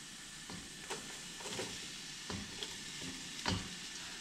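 Chopped onion and garlic browning in a pan give off a steady close sizzle, with scattered crackles and scraping stirs on top. No one speaks.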